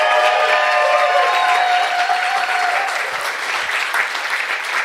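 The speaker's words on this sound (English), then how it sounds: "Can I get a big round of applause for all the speakers?" Crowd at an Ignite Denver event giving a big round of applause for all the speakers, a full, sustained roar of clapping with some cheering and tonal whistles early on.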